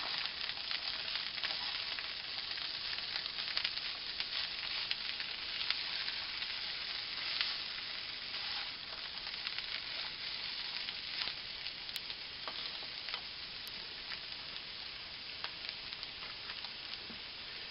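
Gnocchi casserole with meat sizzling in a pan over lowered heat, a steady broadband frying hiss running throughout with faint scraping from stirring, no talk.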